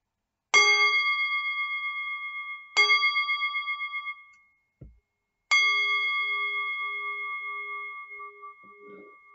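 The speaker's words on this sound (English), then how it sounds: "Hear the bells chiming" Church bells ring for a parish worship service, with three separate clear metallic strikes, each ringing out and fading slowly, and a short dull knock between the second and third.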